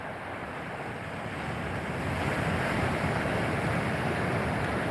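Ocean surf rolls in continuously at a beach with long lines of waves, a broad steady wash of water with wind noise on the microphone, growing slightly louder partway through.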